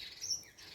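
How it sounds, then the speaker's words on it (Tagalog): Birds chirp from pine trees in a garden, short high tweets coming and going at a moderate distance, faint and without speech. "Nandito na naman yung mga ibon."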